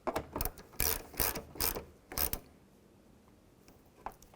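Ratchet wrench snugging down the bolts on a rear exterior door handle of a 2005-15 Nissan Xterra, with several bursts of rapid close clicking over about two seconds followed by quiet.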